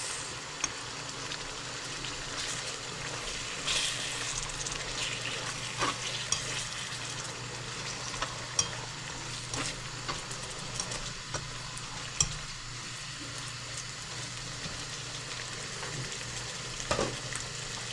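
Onions fry in a pan for a sweet chili chicken dish, a steady soft sizzle running throughout with occasional clinks and stirring taps, no talking.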